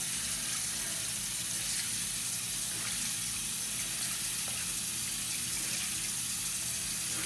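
Tap water pours steadily into a sink during washing with soap, a constant close splashing hiss with no talk.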